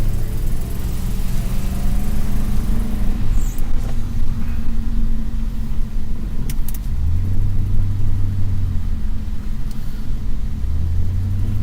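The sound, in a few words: diesel truck driving off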